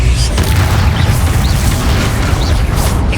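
A Confringo fire spell blast in the wizarding action game Hogwarts Legacy, a loud low rumbling boom with debris crackle that rolls on steadily for a few seconds, no voices heard.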